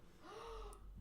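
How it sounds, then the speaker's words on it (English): A girl gasping in the background, one brief airy intake of breath with a faint voiced rise, quiet and somewhat distant. "Did I just hear a girl gasp in the background?"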